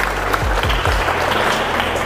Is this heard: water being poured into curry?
no